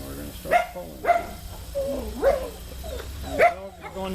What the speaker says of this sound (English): the dog is going nuts because Dad just got home